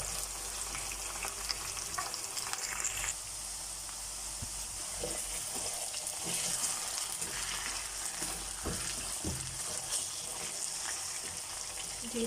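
Potatoes frying in hot ghee in a pan, a steady close sizzle and hiss with scraping stirring strokes throughout.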